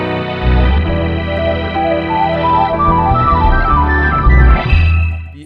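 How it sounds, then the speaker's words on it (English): Soulful gospel-style keyboards given a touch of RC20 crackle in a music production, warm sustained organ-like chords with a shifting melody and a faint gritty texture, playing alone with no voices. "A bit of RC20 crackle on the keyboards."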